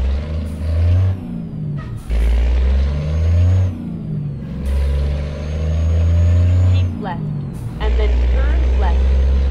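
Renault truck in Euro Truck Simulator 2, a loud low engine drone rising and falling through gear changes with a hiss like an air brake, while someone talks over it intermittently.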